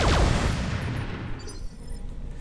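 A salvo of mech weapons fires all at once in the BattleTech game Roguetech, a dense burst of booming gunfire that starts loud and then decays into a rumbling tail, with no voices.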